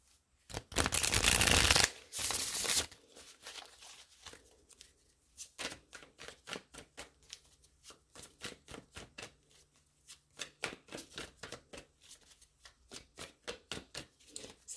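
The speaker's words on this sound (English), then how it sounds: "let me get a couple of shuffles with the spirit" Tarot cards are shuffled by hand, first in a loud riffling burst, then in a long run of crisp, rapid slaps and flicks that come in uneven clusters, close up, with no talking.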